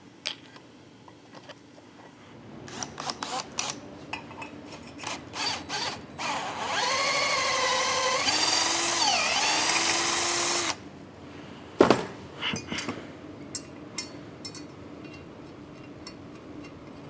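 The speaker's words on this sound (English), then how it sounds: "I used a drill bit, or like a bit holder, but it has a magnet in it." Power drill with a magnetic bit holder working out a broken primary clutch bolt on a CFMOTO, starting in short bursts, then a sustained whining run, followed by a few brief pulses; fairly quiet and close, no talking.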